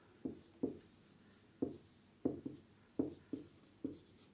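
Chalk or marker strokes on a classroom board during a physics lesson, about seven sharp tapping scrapes in an uneven rhythm, close and fairly quiet with no talking.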